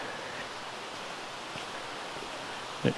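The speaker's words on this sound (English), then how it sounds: "You can hear the water running." Running water from a waterfall along a hiking trail makes a faint, steady hiss with no clear breaks, heard from some distance.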